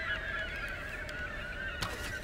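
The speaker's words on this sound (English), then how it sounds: "Got these seagulls." Seagulls calling in the video game Tomb Raider, a few squawking cries over a steady ambient bed, moderately close and loud, with one sharper call near the end and no talking.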